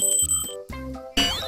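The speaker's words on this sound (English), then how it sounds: "B is for bell." A bell rings a few quick times, bright metallic chiming in short bursts with a final louder ring, close and clear.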